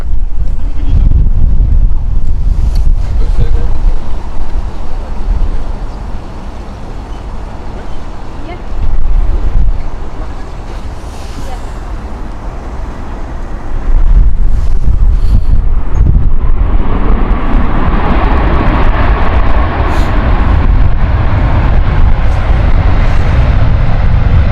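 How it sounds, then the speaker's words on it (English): Strong wind gusts buffet a microphone at Stansted Airport, a steady broadband roar with rumbling low-end surges that ease midway and then return stronger, with faint voices underneath. "it is expected to get quite windy today"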